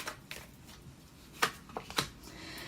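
Tarot cards shuffled and drawn for a reading, giving soft riffling swishes and a few sharper snaps of cards being pulled and laid down, fairly close and quiet.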